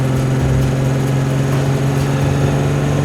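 The 2.5-liter engine of a heavy 1947 Alfa Romeo SS runs steadily, a loud continuous low hum with a strong fundamental tone and rough mid-range texture, heard alone without talk.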